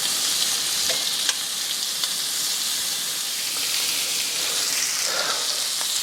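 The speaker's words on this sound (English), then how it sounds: "You can hear that sear." Pork chops sear in hot oil in a pan, giving a steady, close sizzling hiss with faint crackles throughout and no voices.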